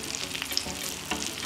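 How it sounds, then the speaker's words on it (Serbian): Garlic and rosemary frying in butter in a pan, a close, continuous sizzle with crackling pops and light stirring. "Nakon par minuta prženja, ruzmarin ću odozgo staviti na beli luk"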